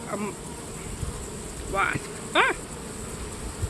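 A wasp buzzes around an open beehive during a hive inspection, with a few short rising whines passing close by while a person lets out a brief exclamation.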